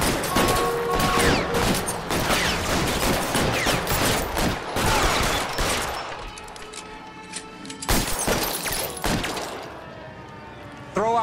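Gunfire in the video game L.A. Noire during a shootout at Nicholson Electroplating, with rapid, dense volleys of shots and impacts that ease off and then return in a few sharp bursts, and voices heard now and then.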